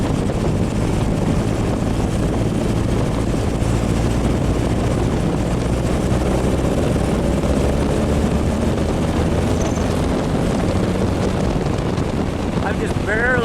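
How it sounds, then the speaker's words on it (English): A car engine fitted with Weber/Dellorto carburetors with a spray bar conversion, driven in second gear near a lake: a loud, continuous engine drone mixed with heavy wind buffeting on the microphone, steady throughout. "rev it up in second or something"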